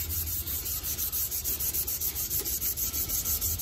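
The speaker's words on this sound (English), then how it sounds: "now we sand with the grit, or with the grain" Sandpaper rubs along the grain of a wooden spurtle in quick, even back-and-forth strokes, each one a soft rasping scratch, close up and fairly quiet, repeating steadily with nobody speaking.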